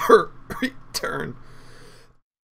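A man coughs and clears his throat in a few sharp, close bursts that trail off into silence.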